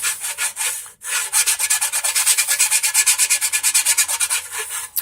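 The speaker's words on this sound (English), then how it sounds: "you can just sand it with some 1500 and some polish, and it comes out all smooth again" Rhythmic back-and-forth sanding strokes with fine 1500-grit sandpaper on a paint run during a paint repair, steady and close, with a brief pause near the start and no talking.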